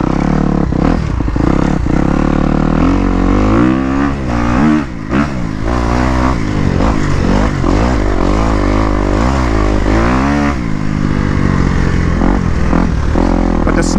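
A Kawasaki KX250 dirt bike ridden through sand, its engine loud and close throughout, rising and falling in pitch as the throttle is twisted on and off through the corners.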